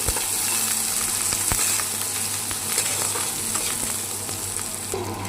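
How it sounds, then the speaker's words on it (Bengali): Chopped onions frying in oil until browned, a loud, continuous close sizzle with occasional scraping stirs and a clatter near the end, no voices. "লাল করে ভেজে নেব"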